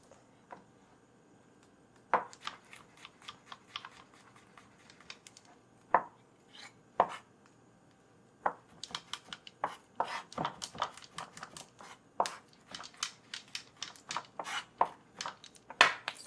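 A knife chops a clove of fresh garlic on a cutting board. It starts with a few scattered taps, then settles into a quick, steady run of close, crisp knocks.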